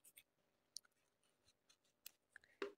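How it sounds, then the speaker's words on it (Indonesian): Scissors snip crochet yarn in a quiet room, a few soft sparse clicks followed by a brief sharper cut near the end. "Setelah itu kita gunting."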